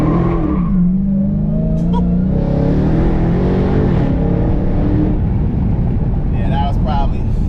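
A 2020 Dodge Charger Daytona Hellcat Widebody drifting in sport mode, its engine roaring loud and close with rising and falling revs and squealing tires, while a person talks over it.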